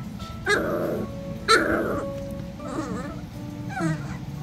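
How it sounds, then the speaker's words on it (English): A dog growls close by in two short, throaty bursts about a second apart, followed by softer, quieter vocal sounds. "You're growling at me."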